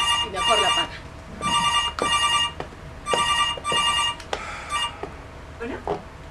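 A telephone rings for an incoming call, with repeated bursts of a bright double-pulsed electronic ring in a steady rhythm over faint background noise and a few quiet voice-like sounds.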